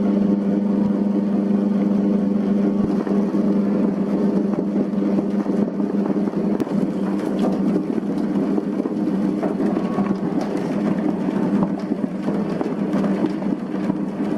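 A machine mixing whole wheat bread dough gives off a steady, loud motor whir that barely changes and continues throughout, with no voices.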